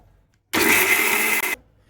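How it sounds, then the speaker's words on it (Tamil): A mixer grinder blending spinach whirs loudly in one short burst of about a second, with a brief stutter just before it stops abruptly. "இதை ஒரு சுற்றி எடுத்துக்கலாம் மிக்ஸி ஜாரில்."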